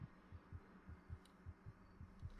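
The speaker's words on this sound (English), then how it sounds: "Is that my heartbeat?" A muffled heartbeat thumps in the horror game Among the Sleep, with steady paired low beats about every half second. It is quiet and close, over a faint background hum, and no one talks.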